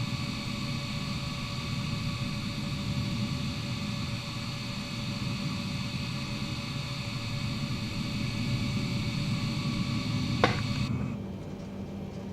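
A Boeing 787-10 in Microsoft Flight Simulator 2020 taxis at an airport: steady jet engine roar with a broad hiss and faint whining tones, one brief click near the end, then the sound thins slightly.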